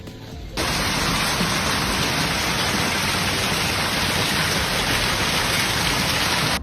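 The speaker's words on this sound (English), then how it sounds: "The sound of the hail impacts was deafening, compared by some residents to artillery fire." A hailstorm in South Texas pounds surfaces with a dense, loud, continuous roar of impacts that kicks in abruptly after a brief quiet start and holds steady throughout.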